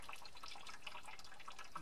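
Water drips from a badly worn radiator hose on a school bus, a soft, steady patter of drops heard close up and quiet, with no talking.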